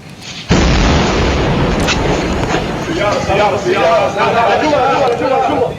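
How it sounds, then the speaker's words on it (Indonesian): A loud, sudden blast from an Israeli attack in Lebanon erupts, followed by sustained rumbling roar and crackling debris with commotion continuing throughout. "Ledakan besar terjadi usai serangan dilakukan Israel."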